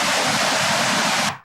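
Salto San Martin waterfall at Iguazu, on the Argentine side of the river, roars as a steady, dense wash of falling water close by, unbroken until it cuts off abruptly near the end.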